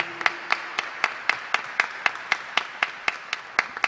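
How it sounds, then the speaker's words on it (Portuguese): Rhythmic applause in a state legislative assembly in Rio de Janeiro, a steady run of about fifteen sharp claps at a quick even pace from a small group, moderately close, with no talking. "eu peço uma salva de palmas"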